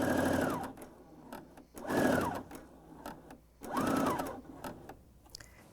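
A BERNINA L 620 coverstitch machine stitches fabric in three distinct whirring runs, each lasting about a second. Quiet pauses separate the runs and carry small clicks, all heard close up without any voices.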